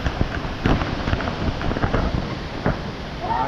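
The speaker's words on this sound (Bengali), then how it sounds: "এবার আসছে বৃষ্টি" Steady, dense hiss of rain pouring during a strong storm, with gusty wind and occasional dull knocks, loud and continuous throughout.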